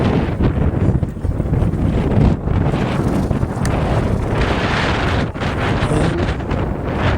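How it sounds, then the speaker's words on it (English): Strong wind buffeting the microphone on a river cruise leaving Bratislava on the Danube, a loud continuous roar with gusty rumble throughout and no voices. "And as always, it's windy, breezy at least."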